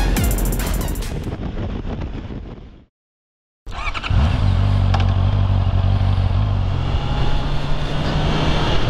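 Honda CB650R naked motorcycle engine, loud and close, clattering and revving with a brief cutout before it returns to a steady droning hum while riding through the city.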